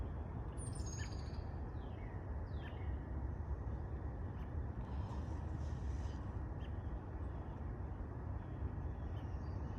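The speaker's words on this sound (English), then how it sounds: "If you listen really closely, you can hear some birds chirping." Faint bird chirps in the outdoors, several brief high calls early on and a few later, set against steady broadband outdoor background noise with no talking.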